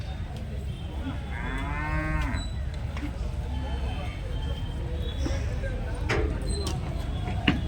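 Cattle mooing at a village livestock market, a couple of long, drawn-out moos against constant crowd murmur and scattered knocks, with people talking nearby.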